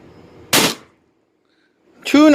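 A First Strike FSC paintball pistol fitted with a MILSIG HeatCore fires one sharp, loud shot, a short burst of hiss fading quickly to silence, followed by a voice speaking.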